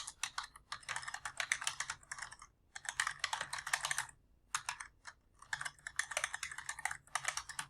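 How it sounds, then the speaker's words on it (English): Rapid bursts of keystrokes on a computer keyboard, close and clear, arriving in quick clusters split by short pauses in an otherwise quiet room, with no speech. "I'm typing that on Discord right now"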